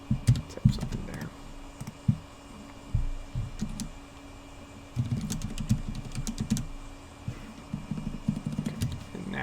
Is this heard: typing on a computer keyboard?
yes